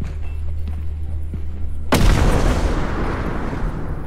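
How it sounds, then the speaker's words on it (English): A bomb goes off in the horror video game Content Warning, a sudden loud blast that cuts in midway and trails into a heavy, sustained rumbling roar over a low background hum. "He has bombs?"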